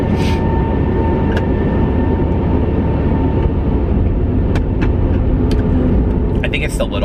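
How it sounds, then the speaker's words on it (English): A slow train rolls past, giving off a continuous, loud, heavy rumble that holds steady from start to finish, with brief voices and clatter on top. "That is a really slow train."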